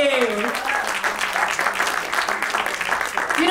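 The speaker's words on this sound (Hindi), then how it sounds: "तो जोरदार तालियां हो जाए रघुवीर यादव जी के लिए" A crowd at a film promotion event for a family drama applauds actor Raghubir Yadav, a dense, sustained patter of clapping throughout, with a brief voice at the start.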